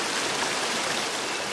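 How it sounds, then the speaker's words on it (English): A steady waterfall from a game's sound mix gives a dense, even rush of falling water. It holds at a constant moderate level from start to finish with no voices. "So you could hear there that the sounds of the waterfall were ducked"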